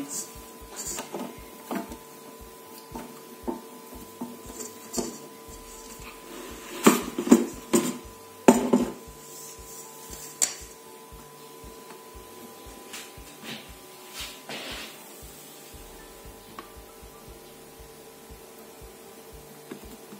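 A food processor kneads burger bun dough at speed four, a steady mechanical whir with repeated clicks and clatters from the bowl running through, some sharper knocks near the middle.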